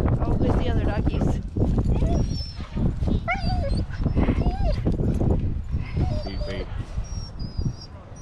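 Several dogs bark and yip at deer during an outdoor walk, over a stretch of rough background noise, with people talking now and then among the barking.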